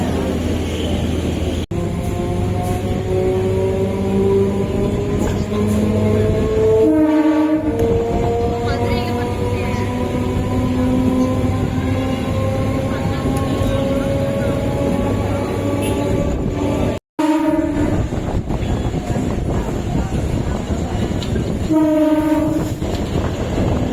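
A MEMU passenger train on the Salem to Mayiladuthurai line rolls steadily along with a loud continuous rumble heard from on board, its horn sounding in sustained blasts, with a couple of sharp harmonic horn bursts over the running noise.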